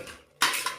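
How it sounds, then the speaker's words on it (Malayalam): A plate is set down as a lid over a pressure cooker pot of boiling mutton curry with tomatoes, making one sharp, close clink followed by a lighter second tap. "ഈ പ്ലേറ്റ് വെച്ചടച്ച്"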